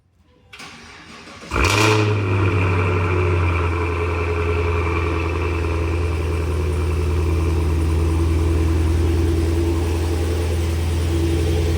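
A Cadillac CT5-V Blackwing engine fitted with a JLT intake cranks briefly, catches with a loud roar, revs up, then settles into a steady, rumbling idle close by.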